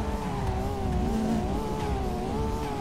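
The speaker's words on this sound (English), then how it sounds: "Ooh, listen to the turbo." A drifting Nissan R32 in a Roblox racing game holds a steady engine drone with a wavering, rising and falling turbo whine on top, and faint tire squeal runs beneath it.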